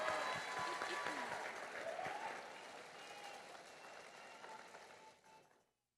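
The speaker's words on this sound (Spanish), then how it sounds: "Un aplauso, por favor." An audience at a national family-movement gathering applauds during a testimonies session; the clapping starts full and steady, then thins and fades to silence near the end.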